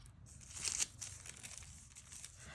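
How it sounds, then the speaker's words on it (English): A quick crisp snip of paper being cut, followed by soft crinkling and rustling, close by and fairly quiet. "So I'm going to take my scissors,"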